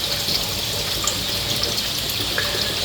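Water bubbles and trickles through a self-siphoning aquarium overflow, a steady close running-water wash with small gurgling pops scattered across the short stretch, no voices.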